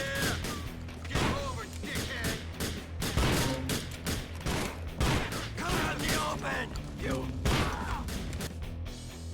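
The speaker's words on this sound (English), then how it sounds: "I unfortunately have to blow each one of these bikers to smithereens with my sweet sawed-off shotgun" Sawed-off shotgun blasts in GTA IV: The Lost and Damned, a rapid string of loud booming shots and crashes against bikers, dense and continuous with game noise throughout.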